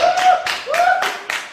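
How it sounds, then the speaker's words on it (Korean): A handful of scattered claps from a small audience at a K-pop group's variety show introduction, brief and mixed with tonal voices and excited calls. "박수!"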